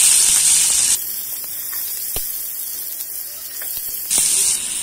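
Sliced onions drop into hot oil with mustard seeds and cumin, giving a bright sizzle that fades to a quieter crackle with occasional pops, then swells loudly again near the end.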